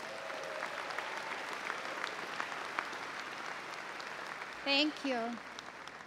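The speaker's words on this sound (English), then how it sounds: "Let's give them one more round of applause." A commencement crowd applauds steadily at a summer graduation ceremony, fairly distant and even, with a brief spoken thanks from a voice near the end.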